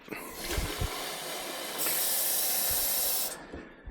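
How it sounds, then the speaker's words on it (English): Water from a garden hose hisses into a handheld sprayer inside a shed, a steady rushing spray that grows louder for a stretch and then cuts off. "I'll just go in the shed, fill this up."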